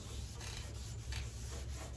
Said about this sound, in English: as I sit here wet sanding until my my arms have fallen off